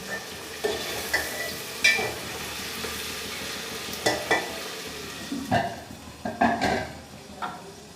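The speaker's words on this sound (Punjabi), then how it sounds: "ਪਿਆਜ਼ ਤੇ ਸ਼ਿਮਲਾ ਮਿਰਚ ਐਡ ਕਰਤੀ ਹੁਣ ਮੈਂ ਇਸ ਨੂੰ ਥੋੜਾ ਟਾਈਮ ਛੱਡ ਕੇ ਪਕਾ ਲਾਂਗੀ" Chopped onion and bell pepper sizzle steadily in a pan, while a spoon stirs them with scraping clinks at irregular intervals.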